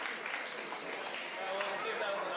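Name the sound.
audience applause at robot combat event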